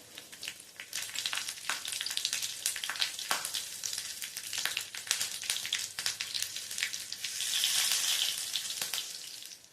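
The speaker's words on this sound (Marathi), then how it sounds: "त्यामध्ये 1 चमचा एवढे जिरे घालणार आहे आणि 2 हिरव्या मिरच्या तुकडे करून घालणार आहे" Cumin seeds and green chilli pieces sizzle in hot oil with the gas turned off, a steady hiss swelling louder near the end, broken by sharp crackles and spatters.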